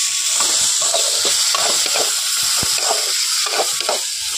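Chopped medium-size tomato hits hot oil with a constant loud sizzle and frying hiss, and a utensil scrapes and stirs it in short strokes throughout.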